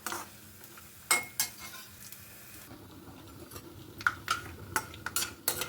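Pieces of dry fruit frying in hot oil in a pan for a Diwali karanji filling: a steady soft sizzle punctuated by sharp clinks and scrapes of a spoon against the pan, close and alone.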